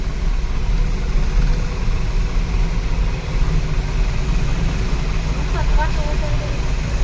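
A tractor engine runs on a road near sugarcane fields, giving a steady, loud low rumble throughout, with faint voices in the background.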